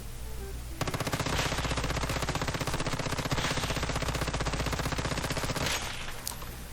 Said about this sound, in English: So let's shoot the dummy.